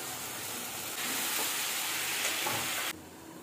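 Tomato cooking down in a pan for a broad bean curry hisses with a steady, close sizzle that swells slightly midway, then softens.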